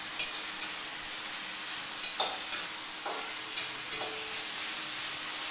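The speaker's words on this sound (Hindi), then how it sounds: "गोल्डन ब्राउन तक इसको भूनना है।" Food frying in a pan until golden brown, a steady close sizzle with a few sharp clinks and scrapes of a utensil stirring against the pan.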